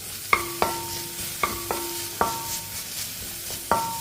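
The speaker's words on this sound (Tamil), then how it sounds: "இதை லைட்டாக கொஞ்சம் வதக்கிக்கிடுவோம்." Small onions sizzle in a hot pan while a metal spoon scrapes and clanks against it in irregular stirring strokes.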